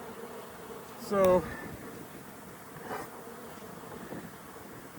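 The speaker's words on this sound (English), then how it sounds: "bees are mad. This hive is mad. This hive is furious at me." A constant drone of many agitated honeybees buzzing around a hive nearby, with someone briefly saying a word over it.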